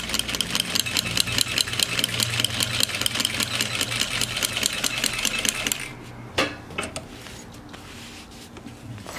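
An industrial walking foot sewing machine, converted from a single needle machine, stitches in a fast steady rhythm of close, loud needle strokes for about six seconds, then stops, followed by a few clunks of the knee bar lifter.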